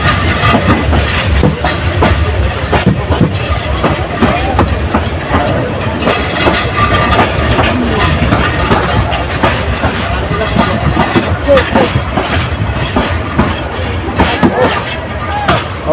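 The Parabat Express rolls into Sreemangal railway station on its way to Sylhet, a loud continuous rumble with rhythmic clacking of wheels over rail joints, close and sustained, while voices talk over it.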